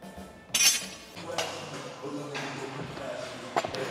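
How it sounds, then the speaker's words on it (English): A Texas deadlift bar is fetched and handled in a gym. There is a sharp metallic clank near the start, then scattered lighter clinks and rattles at close range. "So let's go ahead and get my trusty Texas deadlift bar"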